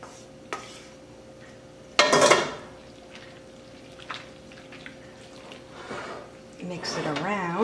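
Egg noodles being stirred into a sauce in a home kitchen, with a few soft clinks and a scraping burst of utensil against the pot, followed by quieter scattered clatter and a voice near the end.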